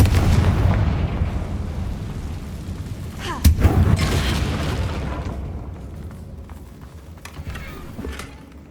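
A Confringo spell blast in the Hogwarts Legacy video game, a heavy booming explosion that fades out, then a sharp second bang midway followed by a long rumbling decay.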